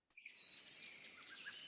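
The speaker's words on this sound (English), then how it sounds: "but this is the sound of cricket I could download." A downloaded recording of a cricket chirping: a shrill, continuous high trill that starts abruptly and holds steady and loud throughout, with no voices.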